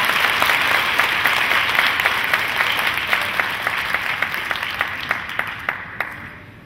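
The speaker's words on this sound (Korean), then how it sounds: "심원주 소장님께 다시 한번 뜨거운 박수 부탁드립니다" An award ceremony audience gives sustained applause, a dense wash of many clapping hands with some sharper individual claps standing out, steady and then tapering off near the end.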